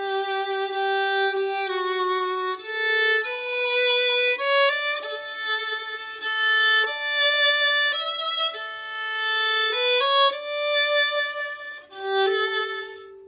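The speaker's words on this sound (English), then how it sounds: "So here is the first melody, which is played by the first violin" A solo violin plays a continuous, flowing melody of clear sustained notes, moving steadily up and down with smooth bowing and no other instruments or voices.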